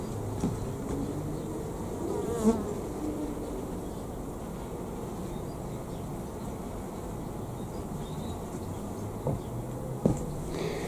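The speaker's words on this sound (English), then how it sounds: "there's very few bees going in there" Soft, steady honeybee buzzing near a small hive, a low continuous drone with a few brief louder passes as individual bees fly close.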